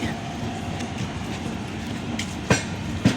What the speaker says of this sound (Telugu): సో ఇంకా మనం ఇంతవరకు వచ్చిన ట్రైన్ అయితే వెళ్ళిపోతుంది